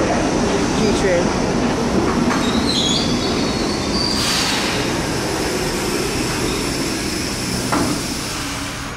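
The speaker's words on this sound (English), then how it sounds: "R68 G train." An R68 G subway train runs steadily and loudly, with its rumble continuous and sharp wheel squeals rising over it around the middle of the ride.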